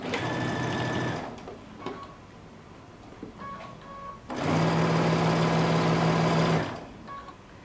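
A sewing machine stitches a neckband onto a lace sweater-knit dress in two loud, steady motor-driven bursts, separated by a quieter pause with faint handling clicks.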